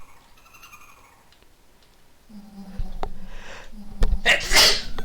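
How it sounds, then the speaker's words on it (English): A single sharp, loud sneeze bursts out near the end, following a quieter stretch of soft background noise. "Sorry, I had to sneeze."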